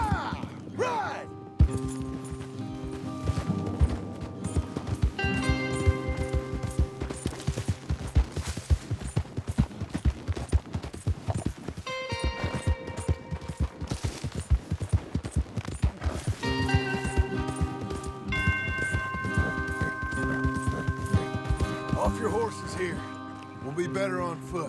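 Horses gallop in the Western video game Red Dead Redemption 2, with continuous rapid hoofbeats driving under gunfire, a musical score and shouted voices.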